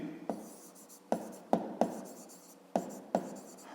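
Pen scratching on paper while working a fifth-grade math exercise, heard as a close, steady scribbling broken by several sharp taps and strokes, with no talking.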